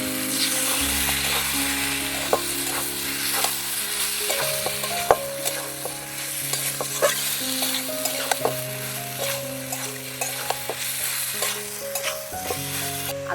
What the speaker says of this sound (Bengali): জল দিয়ে দিয়ে কষাচ্ছি